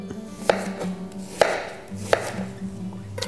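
A kitchen knife slices down through an apple for a watercress and Roquefort salad, giving three crisp, distinct chopping thuds at even intervals against a board, close and clear with no talk.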